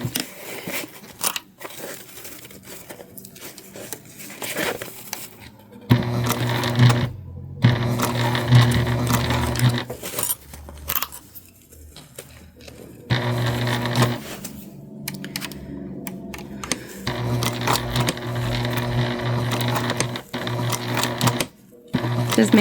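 Sewing machine stitching a handmade bag, its motor whirring in several bursts of a few seconds each with short pauses between, close by, with a person talking over parts of it.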